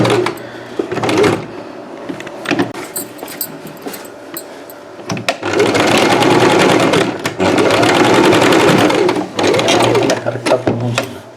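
A sewing machine stitches a designer blouse front with a princess cut in short runs, its rapid mechanical whirring starting and stopping, then a long steady burst, loud and close.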